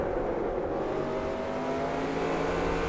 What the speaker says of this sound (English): So I'm trying to work with that throttle pedal and see if I can get full throttle out of it.